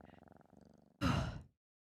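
A human voice imitates a cat's purr in a cat-transformation roleplay, giving soft rhythmic rolling pulses for about a second, followed by a short breathy sigh-like burst, all very quiet and close.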